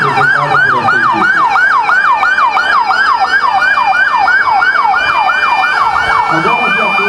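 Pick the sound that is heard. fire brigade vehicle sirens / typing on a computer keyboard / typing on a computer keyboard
fire brigade vehicle sirens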